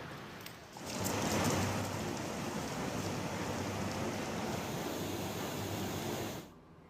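Heavy rain pours down in Dwarka, a steady, dense hiss of downpour that swells in loudly after a quieter start, holds for several seconds with no voices, then cuts off abruptly.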